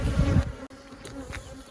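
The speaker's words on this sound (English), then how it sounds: "So there's a decent amount of bees here." Honeybees buzzing in numbers around an opened hive frame during a walkaway split, a close, steady hum that dips briefly after a moment, then resumes more softly.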